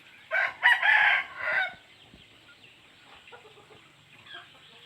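A rooster crows loudly once, a long ragged cock-a-doodle-doo near the start, followed by quieter barnyard ambience with faint distant clucks.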